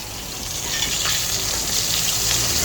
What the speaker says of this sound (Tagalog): Balik tayo sa prito guys.